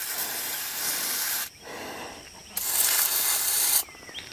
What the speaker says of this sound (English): Let me spray it with some PB Blaster